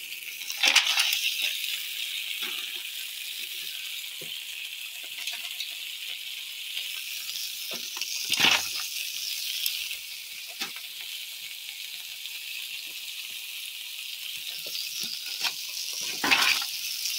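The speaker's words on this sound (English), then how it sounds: "Just gonna cook them till they're brown." Pierogies fry in a hot pan, a continuous bright hiss of oil sizzling steadily, broken by occasional louder crackling bursts and light scraping knocks from time to time.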